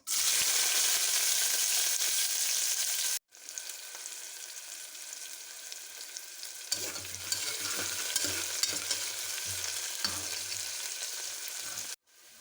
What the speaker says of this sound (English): onions fry చేసుకుందాం కాసేపు